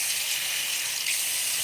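Tap water runs steadily into a sink as bare cast iron pans are rinsed, a soft, even hiss with no speech.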